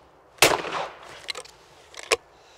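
A shotgun fired at a rabbit clay target outdoors, one sharp report with a short decaying tail, followed by a couple of fainter bursts, with no voices.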